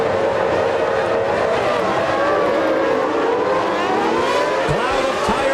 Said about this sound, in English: Up come the revs.